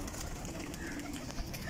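Long-flying pigeons cooing softly amid steady outdoor background noise, with faint talk nearby and a brief louder bump near the end.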